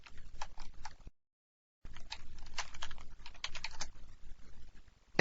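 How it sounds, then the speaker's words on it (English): Quick bursts of clicking keys on a computer keyboard type a short phrase, with a brief silent pause before the typing resumes. Close and fairly quiet, with no voices. "All we have to do is type in hello world."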